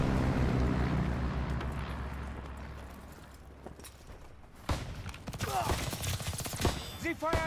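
Gunfire in Call of Duty: WWII begins as a dense wall of noise, then gives way to rapid bursts of automatic fire with rattling shots, while voices call out.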